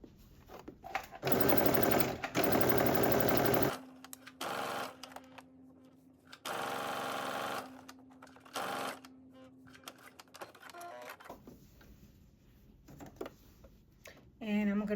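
A sewing machine stitches a sweatsuit side seam in several bursts of a few seconds each, close and loud, separated by pauses with handling and light ticking sounds as the fabric is pivoted at the underarm.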